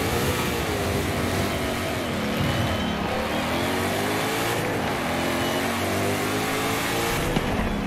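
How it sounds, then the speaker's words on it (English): A Ford Mustang engine in a racing game drones loudly and continuously, its pitch rising and falling through revs and gear changes with no voices over it. "Best sounding car in the game."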